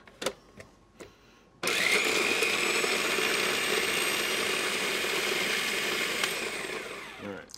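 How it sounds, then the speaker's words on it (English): A blender grinds almonds and garlic, starting after a few soft clicks and knocks, then roaring close and loud in a steady whirring grind for several seconds before winding down. "you kind of grind up the nuts and the garlic first"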